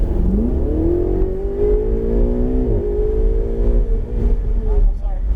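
A Ferrari 488 GTB engine at full throttle on a racetrack straight, its pitch climbing steadily in one loud sustained pull with a brief shift break, under ongoing commentary.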